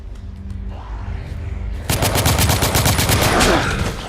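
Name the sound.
machine gun fire in video game The Order: 1886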